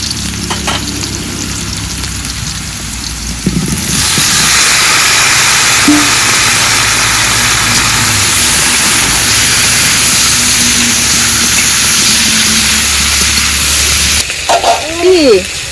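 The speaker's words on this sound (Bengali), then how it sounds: "প্রথমেই ভেজে নেব আলু এঁচড়গুলোও ভেজে নেব" Potatoes and chunks of green jackfruit sizzle steadily in hot oil, a loud continuous frying hiss that starts abruptly and holds for about ten seconds before cutting off, with quieter kitchen sounds before it.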